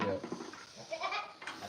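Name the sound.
goat bleating at a ranch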